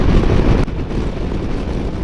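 A Harley-Davidson Sportster riding on a highway at speed, loud engine roar mixed with heavy wind rush buffeting the microphone, continuous with a brief dip partway through.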